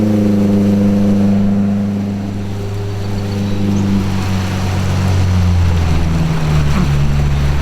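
Outboard boat motor pushing upstream against a fast-flowing river, a loud, close, steady engine drone with shifting pitch as it strains, mixed with rushing water and wind noise.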